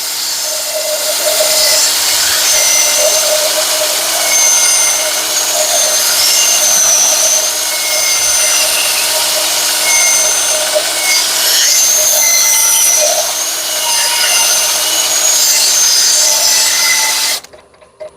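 Sanding a carved wooden bowl with 60 grit sandpaper gives a steady, loud whirring buzz that runs nearly unbroken for about seventeen seconds, then stops abruptly.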